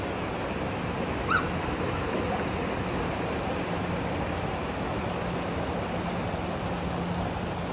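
Water pouring over a 96 m dam, a steady, dense broadband roar that holds level throughout like heavy surf, with no voices.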